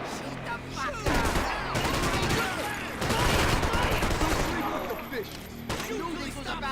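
Rapid gunfire volleys in the video game Max Payne 3, dense overlapping shots and bursts in a firefight, with voices shouting over the shooting.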